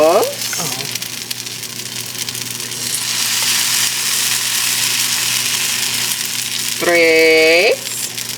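Carrot cake pancake batter sizzling in a hot pan, a steady close frying hiss that swells midway, with people briefly talking at the start and end.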